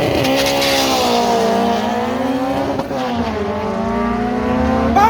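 A 2010 Nissan Sentra B13 with a swapped Nissan SR20VE engine revving hard, the close, loud engine note climbing and holding with harmonic whine, dipping briefly before rising again.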